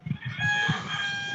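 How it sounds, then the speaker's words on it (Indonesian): A rooster crows once, a long sustained call that carries for over a second with steady loudness, fairly close, heard alone without talking. "suara ayam nih"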